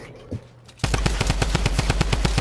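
Rapid automatic gunfire in Fortnite, a fast, steady burst of loud, close shots that starts abruptly after a brief quiet moment and keeps going to the end.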